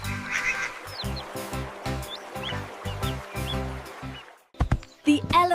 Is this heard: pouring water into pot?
no